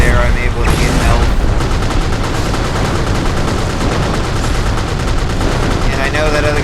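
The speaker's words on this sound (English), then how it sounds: "I know that other guy's shooting at me" Mech gunfire in the Xbox game MechAssault: loud, dense bursts of rapid machine-gun fire with booming impacts that run continuously throughout, while someone talks over the action.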